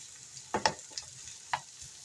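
Onions frying in a pan while being stirred, a faint low sizzle broken by a few brief scraping and clinking strokes of a utensil, close and quiet, no talk.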